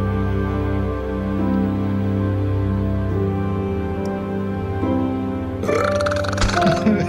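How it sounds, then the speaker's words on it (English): A burp in the video game The Walking Dead: Final Season, a low belching sound over a sustained tonal game music bed, with a brief rougher burst near the end. "Burp louder."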